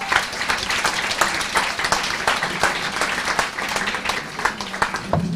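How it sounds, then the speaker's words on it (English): Audience applause at a TechQuartier AI event, dense steady clapping from a crowd that holds evenly for several seconds with no voices over it. "Please give again an applause to Uli."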